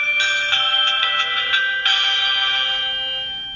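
A counterfeit Nokia N95 phone plays its shutdown tone, a loud, close electronic chime of several tonal notes that ends in a held note slowly fading out, with no talking.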